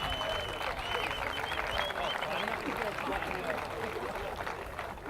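Audience applause for the Panhandle State rodeo team, a dense, steady wash of clapping and crowd noise that holds at a constant level throughout, with speech mixed in.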